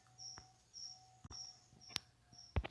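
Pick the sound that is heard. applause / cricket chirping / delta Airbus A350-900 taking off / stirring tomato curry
cricket chirping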